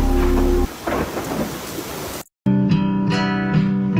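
Steady rain pours down with deep rumbling thunder, loud and close, and after a brief drop to silence a tonal patch with a repeating pulse takes over.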